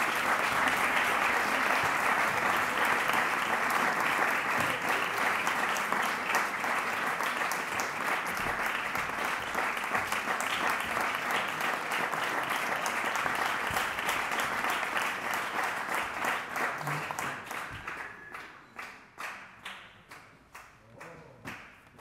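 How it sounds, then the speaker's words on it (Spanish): Strong applause from an audience welcoming a harpist on stage, sustained dense clapping that thins into scattered individual claps near the end. "os pido que recibáis con un fuerte aplaudimiento a una arpista"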